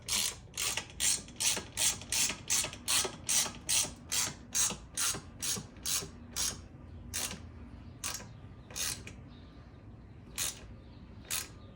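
Ratchet wrench tightening nerf bar bolts on a second-generation Suzuki LTZ 400 ATV: a steady run of about twenty sharp clicking strokes, close and clear, slowing and spacing out toward the end, with no talk.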